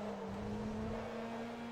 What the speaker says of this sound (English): God, driving this car around this track is so challenging.